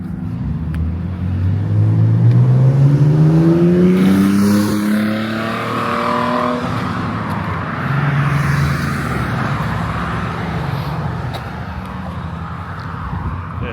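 A Ford Mustang muscle car in Windsor revs hard, its engine note climbing steeply, then roars past and fades into a lower rumble, loud and close at first with faint background traffic.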